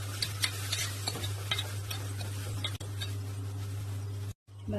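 Two medium onions, sliced lengthwise, sauté in a pan with a soft sizzle and brisk scraping strokes of a spoon, a steady low hum beneath, and a short drop to near silence just before the end.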